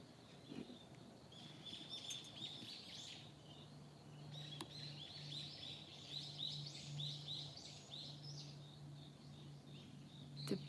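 Small birds sing on the Philosopher's Path in Kyoto, a steady stream of faint, high chirps and trills carrying over quiet outdoor ambience with a low constant hum underneath.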